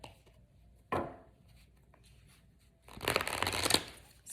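A deck of tarot cards being shuffled, one sharp riffle followed later by a longer rustling burst, close and fairly quiet with no talking.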